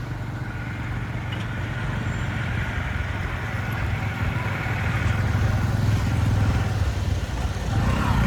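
Vehicle engines rumble steadily on a congested mountain road leading up to a hill fort where road work is under way, a continuous, fairly loud low drone of traffic with no clear speech.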